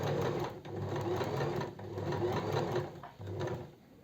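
A sewing machine stitches a seam on a cocktail dress, running close and loud in a few bursts with short pauses as the line of stitching is finished.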